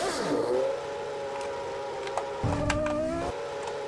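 A Ferrari Formula 1 car engine in Garry's Mod, a rising high-pitched whine that climbs and holds, with a short low rumbling burst near the end.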